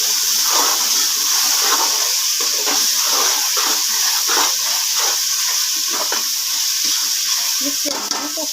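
Coriander and mint frying in a hot pan while making ganji, a steady loud hiss and sizzle that runs throughout with faint stirring scrapes beneath.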